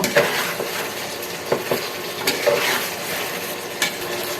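Chicken curry with potatoes is stirred in a pan, a close, busy scraping and sizzling with a few sharp utensil knocks against the pot, no talking.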